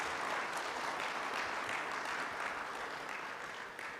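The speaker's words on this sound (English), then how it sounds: "Team Europe, another round of applause." Audience at a finance partnership agreement signing ceremony gives a sustained round of applause, dense steady clapping that fades slightly toward the end, with no speech over it.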